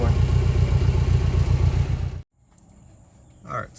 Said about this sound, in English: that was fun having the kids rev up the motor